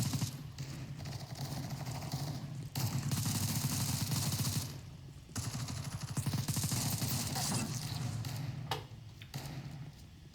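Video game gunfire crackles in dense, rapid bursts of shots, fairly loud and continuous with brief pauses between volleys.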